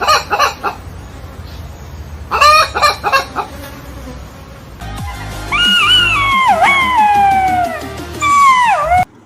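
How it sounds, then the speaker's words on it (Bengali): Flock of cartoon chickens clucking, a busy run of bright squawks and clucks in short bursts, followed by a long sustained buzzing, warbling tone, loud and close. "আরে সাবাস মুরগির পাল যে"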